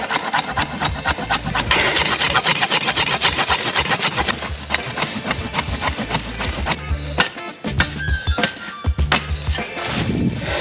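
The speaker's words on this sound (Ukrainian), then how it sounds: "Давайте оці, оцей корішек, корішочок спробуємо перепиляти" The serrated edge of a 2E Fox One Black tactical shovel saws through a tree root outdoors. Loud, close, rhythmic back-and-forth rasping strokes continue without a break.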